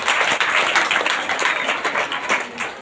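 A church congregation in a village prayer meeting claps loudly and steadily in thanks, dense continuous applause with sharp individual claps close by, no voices over it.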